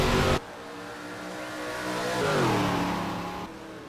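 Stock car engine in a racing video game revving hard under push to pass, a steady roar that swells and climbs in pitch before easing off, loud and close.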